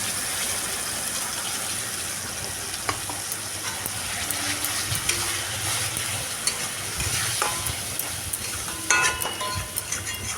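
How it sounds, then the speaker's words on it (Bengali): Onions that are already fried sizzle in a pan as spices go in, a constant bright crackling hiss with scattered stirring clinks and scrapes, close and fairly quiet, with no talk. "পেঁয়াজটা কিন্তু আমার ভাজা হয়ে গেছে। এবার এই মশলাটা আমি দিয়ে দেবো।"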